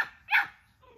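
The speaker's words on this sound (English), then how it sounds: "This all he do is holler. Holler machine." A two-month-old pit bull puppy lets out a single sharp, high yelping bark up close, quick and loud against an otherwise quiet background.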